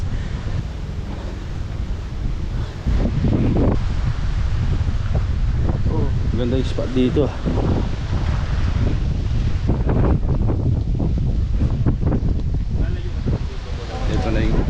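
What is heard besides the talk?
strong wind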